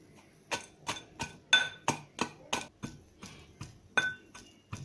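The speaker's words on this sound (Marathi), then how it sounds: "आता मेथ्या आणि हिंग आणि ही हळदीची गाठ काळं मीठ आणि हे भाजून घेतलेलं खडा मीठ हे सर्व आपल्याला कुटून घ्यायचं आहे" Fenugreek seeds, asafoetida, a dried turmeric root, black salt and roasted rock salt being pounded together, about twelve sharp, evenly spaced clinking strikes of a pestle in a mortar, close and alone.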